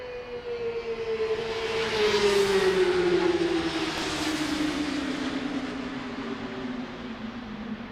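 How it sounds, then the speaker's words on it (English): Boeing 767 at Frankfurt airport making an intersection takeoff in the evening: a steady jet engine roar with a whine that falls slightly in pitch as the aircraft passes at moderate distance, with no voices. "the 767 using an intersection takeoff"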